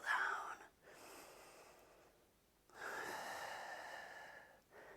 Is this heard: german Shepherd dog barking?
no